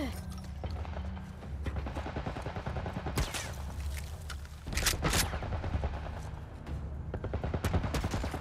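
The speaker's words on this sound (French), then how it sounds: "Un genre de tourelle militaire, reste baissé!" Military turret gunfire in The Last of Us Part I, a continuous rattle of rapid automatic shots with a few heavier bursts, loud and steady across the whole stretch.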